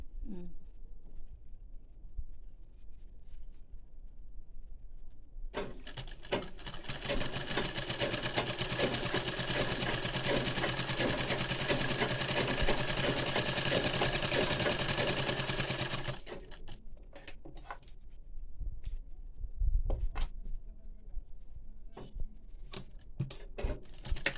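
A sewing machine stitches a kubasa blouse, its fast, steady motor-driven clatter starting after a few seconds, running continuously for about ten seconds, then stopping, followed by a few scattered taps and handling sounds; no talk.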